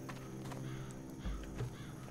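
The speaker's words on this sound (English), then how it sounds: "crows just hanging out" Crows caw near a graveyard in Classic WoW, a few harsh calls spread across a steady ambient game backdrop, with no talking.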